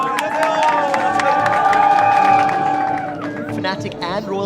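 A crowd cheers and applauds as SK Telecom players, Season 3 League of Legends World Championship finalists, are welcomed onto stage at an esports event; sustained loud roar with a tonal announcer or music layer over it, tapering near the end.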